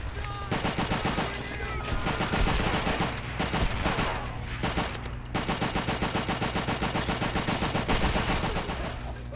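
Sustained rapid automatic gunfire from a drum-fed machine gun in a PS3 shooter game, loud and dense with continuous bursts tearing through walls, brief pauses around the middle, no talking.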